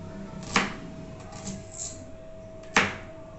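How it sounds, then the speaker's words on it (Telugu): A knife chops two medium onions into thin pieces on a board, giving two sharp, separate knocks about two seconds apart with faint handling noise between them and no talking. "ఫస్ట్ టూ ఆనియన్స్ తీసుకోండి, మీడియం సైజ్వి తీసుకొని వీటిని ఇలాగ సన్న ముక్కలు చేసుకోండి."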